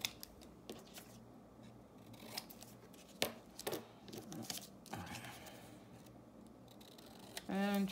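Scissors cutting through book paper, with a series of soft irregular snips and rustling of the sheet, fairly close and quiet, ending in a brief sharper sound.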